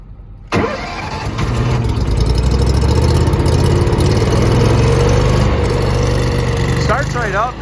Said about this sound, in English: We'll go ahead and start this thing up.